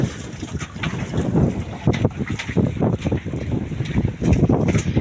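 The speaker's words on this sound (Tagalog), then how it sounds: "Lakas na ba ng hangin mga bayo?" Strong wind buffets the microphone in heavy gusts, with water sloshing and splashing against a boat; loud, uneven and close.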